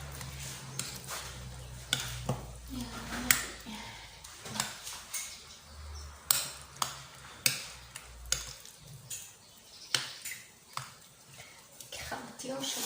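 Eggplant being mixed with garlic and cumin for a meatless tajine gives repeated soft scraping and tapping strokes at a steady, unhurried rhythm, with someone talking over them.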